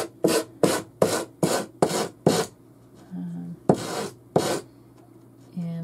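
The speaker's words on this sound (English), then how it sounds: "So I'm just gonna take this and sand it down." Sandpaper rasps over excess wallpaper on the edge of a particle board table top in repeated short, brisk strokes, about nine close rubbing passes with brief pauses between them.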